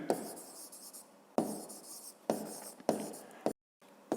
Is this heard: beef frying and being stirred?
no